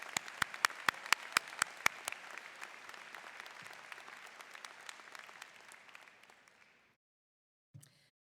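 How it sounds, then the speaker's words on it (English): Audience applause at a university commencement ceremony for the commencement orchestra, starting with several sharp, distinct claps and swelling into steady dense clapping across a large hall before stopping abruptly, followed by a brief faint thump. "a round of applause for our commencement orchestra"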